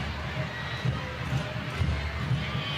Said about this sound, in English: This is a typical crowd in Snapdragon Stadium.